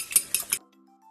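A utensil clinks sharply against a bowl three times in quick succession as eggs are beaten for a scramble with tender broad beans and ham, then it falls silent.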